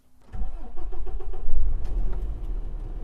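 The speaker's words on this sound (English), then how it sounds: "start up the truck and we were off." A truck engine cranks and catches, then settles into a rumbling idle, loud and close with no talking over it.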